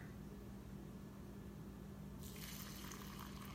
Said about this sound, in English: Pour water, just cold water right over the top.